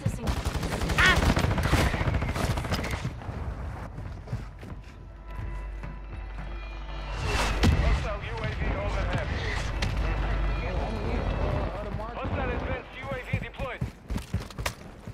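Rapid bursts of gunfire from a video game shooter crackle through most of the stretch, loud and close, mixed with game effects, while players talk over it.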